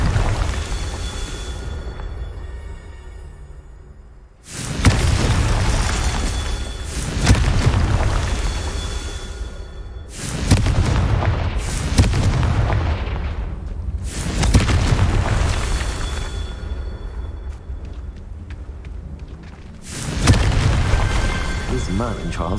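Confringo blasting spells go off in the Hogwarts Legacy video game, a series of heavy booming explosions roughly every few seconds, each with a long rumbling decay, loud and close with some speech underneath.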